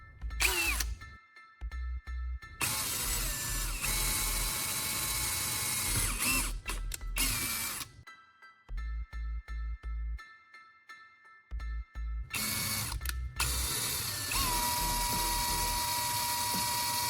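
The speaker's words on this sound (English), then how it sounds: "the next step is drilling two holes into the surface of the CD" A power drill bores two holes into the surface of a glued CD, its whine starting and stopping in several loud bursts separated by brief silences.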